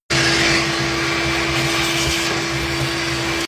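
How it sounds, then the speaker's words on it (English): A vacuum cleaner runs continuously while cleaning lint from inside a Samsung dryer, a loud, steady whining roar with a fixed motor tone that starts abruptly and cuts off at the end. "We're gonna take a quick break and vacuum out the inside."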